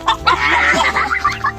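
Chicken clucking close by, a short run of bright, choppy clucks in a Kerala home setting on a rainy day, with no one speaking.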